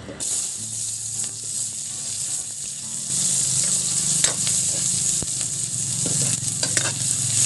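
Onion frying in a little oil in a home kitchen pan, a steady close sizzle that swells louder partway through, with occasional clicks of a utensil against the pan.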